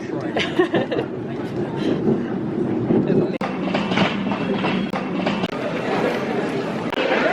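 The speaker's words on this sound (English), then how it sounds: "We're on the train." London Underground tube train running near King's Cross rumbles with a steady low roar and faint rail clatter, heard from inside the carriage as passengers talk and laugh throughout.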